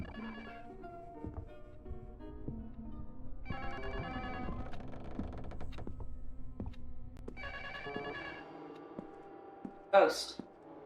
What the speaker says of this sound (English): I'll answer that phone call.